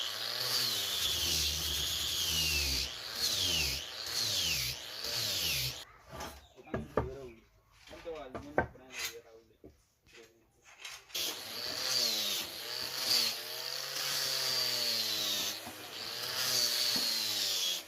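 An electric sander whirs against wood in several passes while shaping a wooden arched window frame, its motor rising and falling, with brief pauses and scraping between runs.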